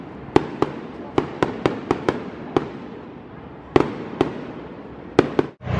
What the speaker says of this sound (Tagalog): May pa-fireworks po sila.